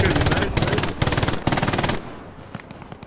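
Machine gun suppressing fire in Hell Let Loose, several loud rapid bursts in quick succession, then a quieter tail of distant scattered shots.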